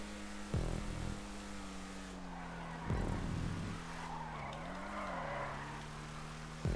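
Car tyres squealing and skidding under braking in GTA 5, with sharp skid onsets repeating three times over a steady humming engine drone, fairly quiet overall.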